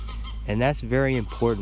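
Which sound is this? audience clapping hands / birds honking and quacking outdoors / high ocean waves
birds honking and quacking outdoors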